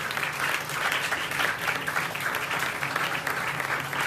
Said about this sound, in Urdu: زوردار تالیاں خدا کے لیے بجائیں